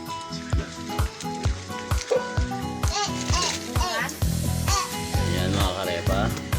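Food bubbles and sizzles in a cooking pan in a home kitchen, with rhythmic stirring knocks and scrapes against the pan and a voice chattering in the background.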